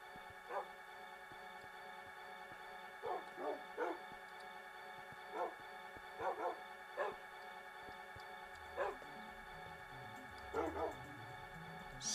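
Dogs in Minecraft bark in short, scattered yips, sometimes doubled, over a steady electronic background hum. The barks come at irregular intervals and sound fairly faint.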